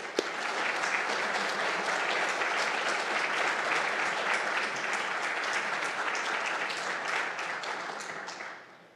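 Sustained audience applause welcoming a speaker to an evening lecture, a dense, steady roar of many hands clapping for about nine seconds before fading at the end.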